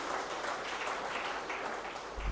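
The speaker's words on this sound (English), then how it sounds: "A big round of applause for Kaustav sir" Audience applause at a medical devices conference, a dense steady wash of clapping from a large crowd, continuous and fairly even throughout, with no talking over it.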